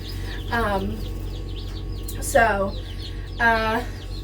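Baby chicks on a homestead give three separate chirping calls spaced about a second apart, moderately loud over a steady low background hum.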